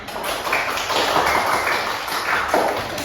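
Classroom of students applauding together, a steady dense patter of hand claps at close range filling the moment, with a few voices faintly underneath.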